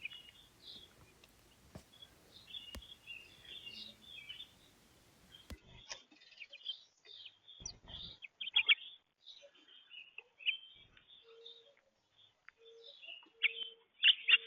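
Mourning doves, plump brownish-gray birds with black spots and long pointed tails, give soft calls in a backyard setting, scattered among frequent chirps and tweets from other birds at moderate distance, with no talking.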